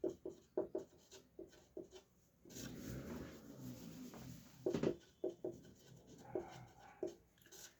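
A math formula is written by hand on a board, with a series of soft scratchy strokes and taps at an irregular rhythm and a longer rubbing stretch in the middle, close and quiet, with no voices.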